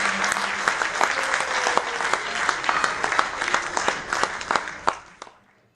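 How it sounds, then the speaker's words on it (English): Parents and guests at a school event give a second round of enthusiastic applause for nursery pupils. The clapping is loud and dense at first, then thins into scattered claps before dying away at the end. "Shall we please give them a second round of applause for the hard work done by the nursery pupils."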